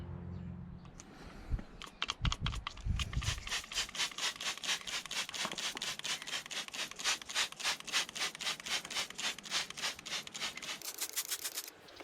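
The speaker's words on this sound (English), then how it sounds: "flip the wheels around and give the inner barrels a really good clean" Inner barrels of BMW E60 M5 wheels being scrubbed free of caked-on brake dust, a fast steady back-and-forth brushing rhythm, close and loud, running for about ten seconds after a few knocks at the start.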